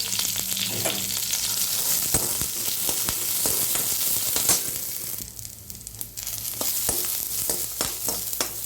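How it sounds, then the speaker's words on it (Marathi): Chopped onion fries in oil in a pan, a steady dense sizzle heard up close, with occasional scrapes and clicks of stirring and a brief quieter gap midway. "थोडस गोल्डन कलर येईपर्यंत ह्याला हालून घ्यायचं आहे थोडस तेल घाल"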